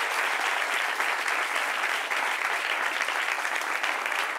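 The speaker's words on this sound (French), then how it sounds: "Applaudissements pour vous-même, cher public." A studio audience on an Ivorian television talk show breaks into loud, dense applause that stays steady and continuous from start to finish.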